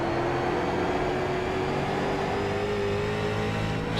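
A sim racing game's race car accelerating as the driver gets on the gas, with a steady engine drone and a rising whine held throughout, continuous and fairly loud with no talk.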